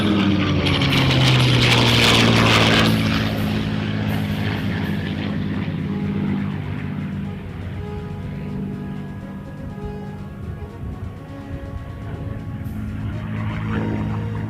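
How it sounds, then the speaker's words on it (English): A 1944 North American P-51 Mustang with a Rolls-Royce Merlin engine makes a topside pass at an airshow, its loud propeller roar peaking early, then sustaining as a steady droning hum that fades slightly and swells again. "You're now listening to the roar of the Rolls-Royce Merlin engine."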